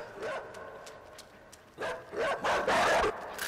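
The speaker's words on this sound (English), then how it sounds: "A dog running. Yeah, that's a running dog." A dog barks in the video game INSIDE, sharp yips and barks coming in bursts at mid distance, growing more frequent and louder toward the end.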